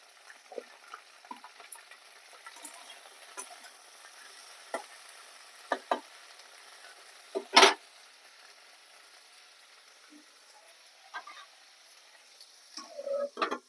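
Okra frying in a pan for a sour curry, a soft continuous sizzle broken by scattered scrapes and clicks of stirring, fairly quiet and close, with no talking.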